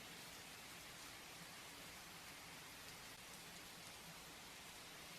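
Steady rain pours outside at night in the video game Twisted Tides, a dense, continuous hiss of falling drops with a soft low rumble underneath, faint and even throughout with no voices.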